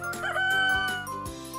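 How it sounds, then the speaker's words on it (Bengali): A rooster crows once in a single drawn-out, tonal call lasting under two seconds, loud and close with nothing else heard. "কক ডাকে খুব ভোরে"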